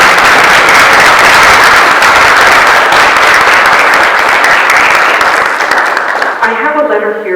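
An audience at a grade nine recognition ceremony claps loudly and steadily for about six seconds, then the applause fades as a voice begins speaking.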